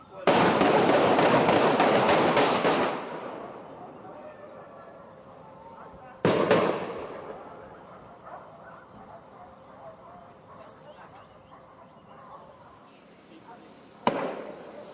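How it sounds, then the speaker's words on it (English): A loud burst of rapid gunshots cracks for a few seconds during an armed siege with police in Napier, then single sharp shots ring out later with echoing tails, while voices talk between them. "fresh gunfire could be heard at the siege in Chaucer Road"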